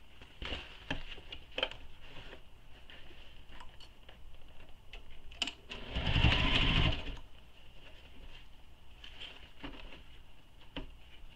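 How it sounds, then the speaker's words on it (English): A sewing machine stitches a seam on a nylon bag, a close, steady whirring burst of about a second amid light handling taps and rustles, with no voice. "sew this with the seam allowance given in the pattern"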